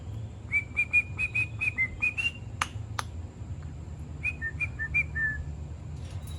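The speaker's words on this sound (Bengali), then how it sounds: "ওরা খুব সুন্দর শীষ বাজাইতে পারে" Pet conures such as pineapple, blue and sun conures whistle in a run of clear, repeated bright notes, then a pause with a couple of sharp clicks, followed by a second shorter phrase, close by over a low steady background hum.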